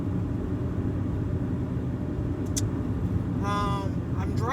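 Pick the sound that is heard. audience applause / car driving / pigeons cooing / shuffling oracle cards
car driving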